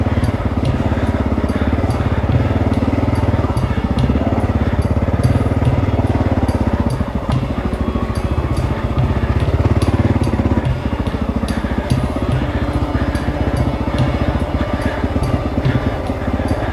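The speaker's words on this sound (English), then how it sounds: "Gotta get into second gear here." A motorcycle engine revs loud and close on a ride at Sugar Pine. The roar holds steady, then dips briefly as the rider shifts into second gear and climbs again, with no talking.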